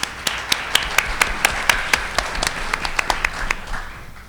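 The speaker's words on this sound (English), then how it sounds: "please give yourself a round of applause." A crowd at a civic forum claps for about four seconds, a steady patter of individual claps that fades toward the end.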